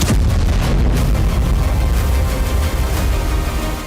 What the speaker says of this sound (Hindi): क्रीमिया के सेवास्तोपोल में कई धमाके हुए हैं